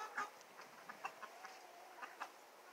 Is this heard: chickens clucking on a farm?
yes